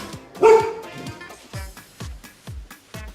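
A husky barks in a series of sharp, repeated woofs, first one loud close bark and then a steady run of shorter barks at an even rhythm, with no talk over them.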